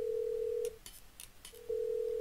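Telephone dialing of Star 69 in the Agent A puzzle game: a steady tone, a quick run of short keypad beeps in the middle, then the tone resumes, all clean and close with no talk.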